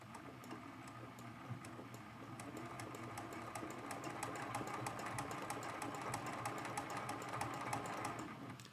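A sewing machine runs a steady straight stitch through flannel for a quilted mug rug applique, its fast even needle chatter continuous and fairly quiet throughout, with no talking.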